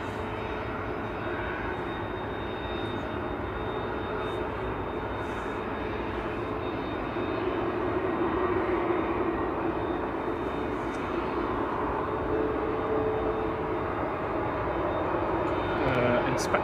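Aircraft engines drone steadily at Manchester Airport, a broad continuous roar that swells slightly partway through and holds at a moderate distance for the full stretch.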